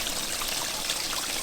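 Water pours steadily into an inflatable hot tub as it fills, a continuous hissing trickle and splash held at a fairly constant, moderate level.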